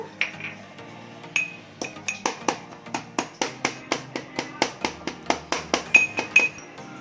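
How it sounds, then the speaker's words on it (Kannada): Black peppercorns pounded in a mortar with a pestle at home: a steady series of sharp, ringing clinks, about two or three per second, close and clear, with no talking. "ಪೆಪ್ಪರ್ ಕಾಳನ್ನ ನೀಟಾಗಿ ಕುಟಾಣಿಗೆ ಹಾಕ್ಕೊಂಡು ಪುಡಿ ಮಾಡ್ಕೋಬೇಕು"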